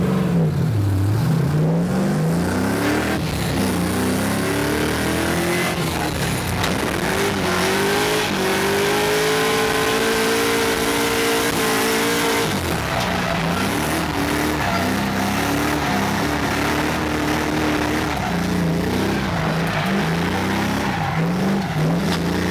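Drift cars rev and run laps on a track, their engines whining loudly and continuously, pitch rising and falling as throttle comes on and off.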